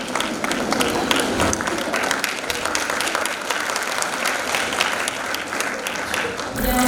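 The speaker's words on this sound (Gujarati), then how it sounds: "ખૂબ જ તાળીઓથી વધાવીશું આપણા સહયોગીઓને" A school annual function audience applauds loudly and continuously, a dense, even roar of many hands clapping close by that holds steady throughout, with some voices mixed in.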